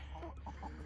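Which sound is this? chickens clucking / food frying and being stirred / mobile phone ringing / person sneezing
chickens clucking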